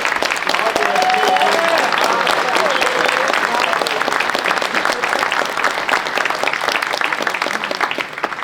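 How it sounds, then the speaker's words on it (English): Graduates at a university graduation ceremony applaud their families, dense steady clapping filling the hall for several seconds with a few faint cheers mixed in, holding loud throughout and easing slightly at the end. "I think it's your turn now to clap and cheer for your families, for the support they brought"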